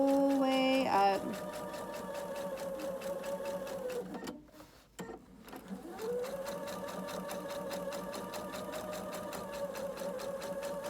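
A domestic sewing machine runs steadily while topstitching a center back seam, a close, even mechanical whir that pauses briefly in the middle before resuming at the same pace.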